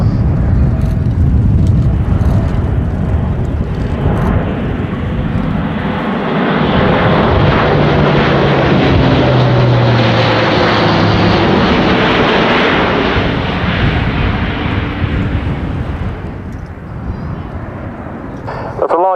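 An Airbus A400M Atlas four-engine turboprop military transport roars steadily overhead at an air show, a loud sustained engine drone that swells through the middle and fades slightly, with someone narrating over it throughout.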